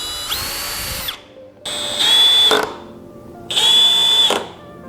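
A power drill drives screws while installing a miter saw station's precision fence assembly, with three loud whirring bursts, the later two rising in pitch and strain as each screw seats.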